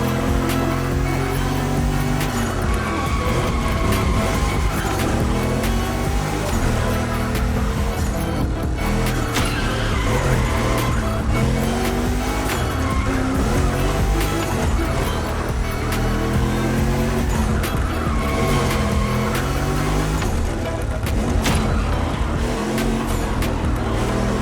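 A car in The Crew Motorfest drifts under loud, continuous engine roar with wavering revs and tire squeal throughout, dense and close.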